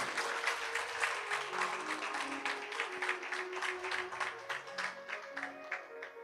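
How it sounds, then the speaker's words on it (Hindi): Devotees applaud at a Bhagwat Katha gathering in Nagpur, a steady wash of many hands clapping with soft sustained music tones underneath throughout. "उनके लिए भी एक बार ताली बजा दें"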